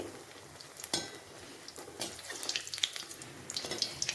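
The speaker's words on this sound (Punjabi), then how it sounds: "ਇਸ ਨੂੰ ਚੰਗੀ ਤਰ੍ਹਾਂ ਆਪਾਂ ਫਰਾਈ ਕਰਾਂਗੇ" Bread fries in a pan with soft, close sizzling and crackling, broken by scattered pops and brief clinks and scrapes as it is moved around, with no talking.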